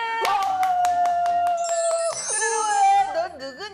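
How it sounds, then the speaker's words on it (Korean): A quick run of sharp, evenly spaced children's claps rings out over a sustained high, tuneful voice. The clapping fades out as voices carry on with a wavering tone. "박수!"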